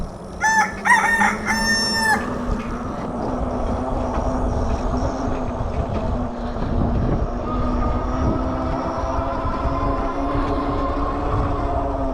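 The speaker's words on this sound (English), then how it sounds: "What is this bird doing?" A rooster crows twice in quick succession near the start, clear and fairly close, before a steady rumbling drone of moving traffic or rail noise takes over for the rest.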